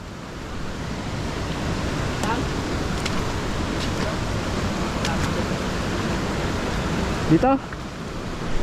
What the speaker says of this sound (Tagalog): Ayun o, ito na ilog. Ang lakas oh.